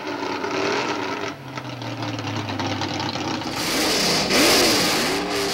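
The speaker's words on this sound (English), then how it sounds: "That's Merv Moyer's half-breed B-Gas 56 Chevy." A 1956 Chevy half-breed B-Gas gasser drag car engine revs loudly and steadily at the drag strip, its mid-pitched roar swelling toward the end with no talking.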